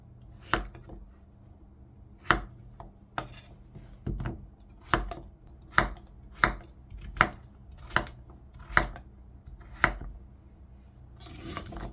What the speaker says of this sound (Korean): 한 입 크기로 썰어서 준비해 주고요